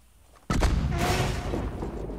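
An explosion goes off during a train robbery in Red Dead Redemption 2: after a quiet moment, a sudden heavy boom hits and then rolls into a long, loud rumbling blast that slowly fades.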